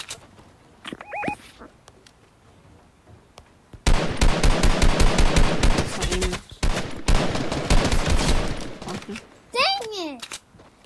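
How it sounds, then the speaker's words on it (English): Rapid bursts of automatic gunfire in a multiplayer shooter video game, loud and sustained for several seconds, with brief pauses between volleys and game sound effects around them. "Oh, I'm getting shot at."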